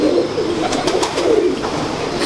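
A Kalsida pigeon coos in soft, low, rolling phrases close by, repeating steadily against a faint background hiss.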